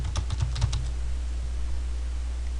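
A short burst of quick keystrokes on a computer keyboard while typing a title, then near silence over a low steady hum.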